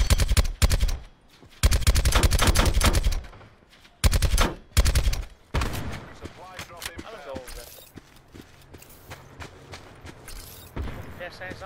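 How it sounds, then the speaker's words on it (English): Loud automatic gunfire in Call of Duty Blackout, several sharp bursts in the first five seconds, then lighter scattered shots and game noise. "His teammate is shooting us."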